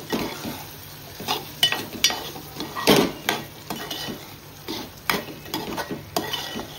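Chicken liver, a kaleji fry, cooks in a pan while a spoon stirs and scrapes it, producing repeated close clanks and scrapes over a soft underlying sizzle, with no talking.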